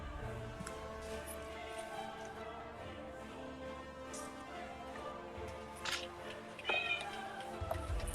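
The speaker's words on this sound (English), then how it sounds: "I heard a cat." A cat meows several times nearby in a quiet room, short clear calls rising over a low steady background hum, with one louder meow toward the end.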